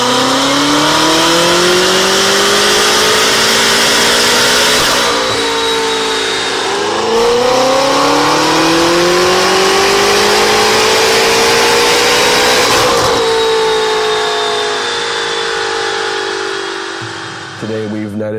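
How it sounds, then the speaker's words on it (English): A 2013 BMW M5 (F10) with a full Armytrix Valvetronic exhaust, optional downpipes and a stage 1 plus tune revs loudly up close, its engine note rising and falling through several long sweeps with brief pauses between pulls. "We've installed the full Armitrix Valvetronic exhaust system, including the optional downpipes"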